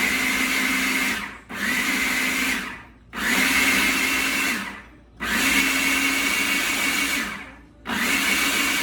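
Blender puréeing food with olive oil in repeated bursts, four loud whirring runs separated by short pauses, motor pitch steady and close, with no talk.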